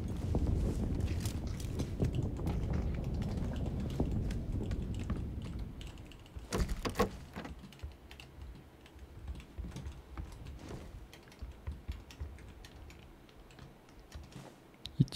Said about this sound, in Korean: 발소리. 오, 밑에.